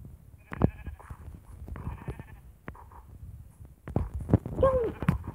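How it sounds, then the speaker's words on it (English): Sheep bleating, a few short bleats fairly close by against quiet rustling and low background noise, with a clearer, stronger call near the end. "I hear a sheep."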